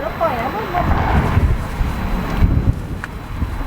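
Strong gusty wind blows outdoors at a roadside food stall as a storm approaches, a loud, rumbling buffet across the microphone, while someone talks over it throughout.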